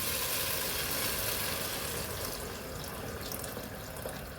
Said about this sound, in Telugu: అందుకే కొన్ని నీళ్ళు ఎక్కువే వేస్తున్నాను